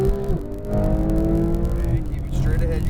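A race car engine pulls hard at full throttle on a track during an overtake, its rising whine loud and continuous throughout while someone talks over it.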